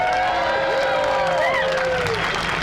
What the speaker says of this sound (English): Let's give a round of applause to the organizers for doing an amazing job.